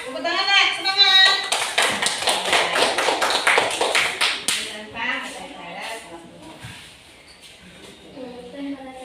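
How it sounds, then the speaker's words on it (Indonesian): Schoolchildren in a classroom clap their hands in quick, lively bursts that fade out over several seconds, while voices talk over and after the clapping. "Tepuk tangan nak, semangat."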